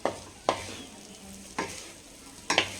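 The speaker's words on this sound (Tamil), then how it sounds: "ரைஸ் சேர்த்துட்டு இந்த மாதிரி மிக்ஸ் பண்ணிக்கணும்." A utensil scrapes and stirs basmati rice through vegetable fried rice in a pan, giving four distinct scraping strokes over a soft background sizzle.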